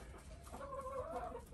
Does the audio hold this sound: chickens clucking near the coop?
yes